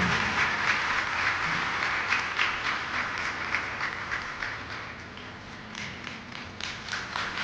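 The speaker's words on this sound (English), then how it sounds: "With applause, please." Dense applause from an audience at an honorary doctorate ceremony in Ankara, a steady wash of many hands clapping that holds for several seconds, fairly distant and even, swelling slightly toward the end.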